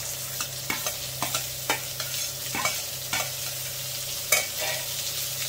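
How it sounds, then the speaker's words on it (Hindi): Chopped onions sizzle in a hot pan while a spoon stirs them in regular scraping strokes, the clicks and scrapes repeating about every half second over a constant frying hiss, with no voices. "प्याज ब्राउन होगी तब तक इसको चलाते रहेंगे।"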